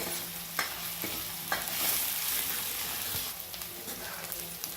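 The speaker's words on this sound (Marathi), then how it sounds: "ह्याचा कच्चेपणा जाईपर्यंत आपल्याला परतून घ्यायचं याच्यासोबत राहिलेला कांदा पण आपला छान असा शिजला जाईल" Onion with ginger and garlic sautéing in a pan, a continuous close sizzle broken by a few scraping stirs of a spoon, with no talk.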